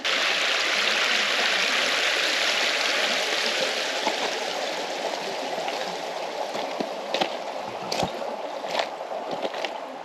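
Creek water rushes steadily over rocks in a continuous broad hiss close by, with a few faint knocks and footsteps near the end.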